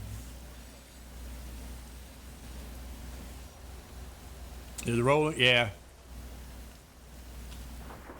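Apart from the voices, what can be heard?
rain in a trucking video game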